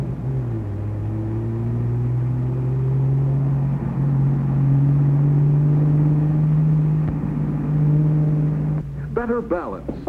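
A Chevrolet car drives steadily during a vintage handling test, its engine droning as a continuous low hum with a slight rise in pitch, loud and close, before cutting off near the end to a brief clatter.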